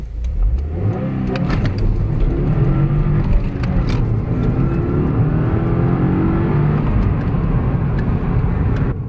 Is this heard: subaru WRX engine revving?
yes